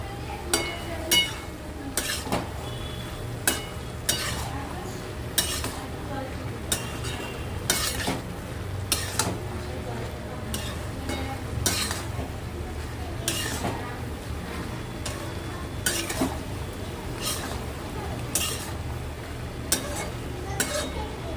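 A spoon scrapes and clinks against a pan while bottle gourd and prawn curry is stirred, with sharp knocks recurring every second or two over a soft, continuous sizzle.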